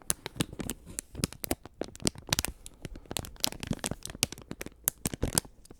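Crinkly plastic packaging on a Lord of the Rings book bin, handled up close, giving dense bursts of sharp crackling and crumpling that go on without a break.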